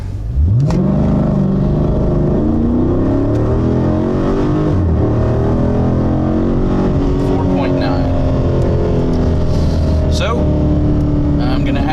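A Dodge Scat Pack launches from a standstill in sport and manual mode in second gear, with the ECM fuse pulled. The engine roars loud and close, and its pitch climbs hard and keeps rising through sustained acceleration.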